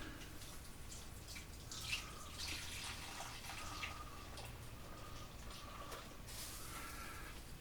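Custard pie filling poured carefully into a pie crust, a faint, continuous liquid trickle with soft splashy drips and no talking.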